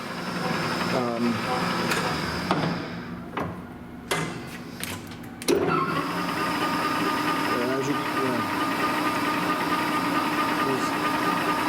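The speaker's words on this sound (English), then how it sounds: "Go a little faster there. Headstock itself still sounds good." Machine headstock spinning faster, a steady mechanical whir and hum with hiss, a few sharp clicks and knocks partway through, running throughout at close range.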